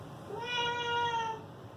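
One drawn-out cat meow sounds in a workshop, a clear rising-and-falling call near the microphone that swells and fades against quiet room tone.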